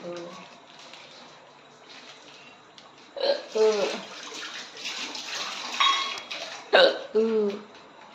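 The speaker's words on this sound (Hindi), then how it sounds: "हिचकी आ रही है बहुत ज्यादा" A person hiccups several times in close succession, the sharp little catches sitting among speech and household noise indoors.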